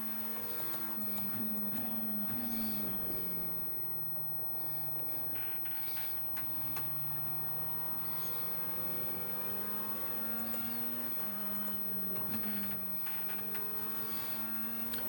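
A GT race car engine on a lap in the racing game Assetto Corsa Competizione: a steady, fairly quiet engine drone whose pitch climbs and drops repeatedly through gear changes, no voices.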